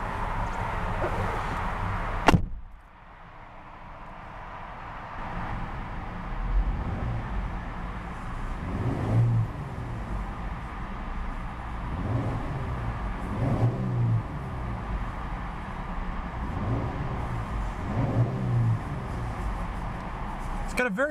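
A 2015 Jeep Wrangler Unlimited Sport with a 3.6-liter Pentastar V6 idles steadily, then revs up in several repeated swells spaced a few seconds apart, heard close and fairly loud after a brief sharp click.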